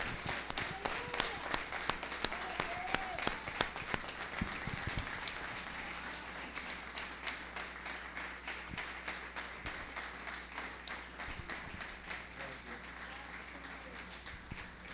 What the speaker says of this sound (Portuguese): Mais palmas ao Rei dos Reis, ao Senhor dos Senhores. Mais palmas, mais palmas.